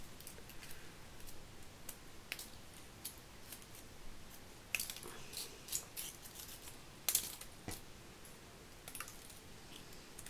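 Scissors cutting through craft wire on a dancing-girl greeting card, giving a series of sharp, close snips and clicks spread irregularly over a quiet background.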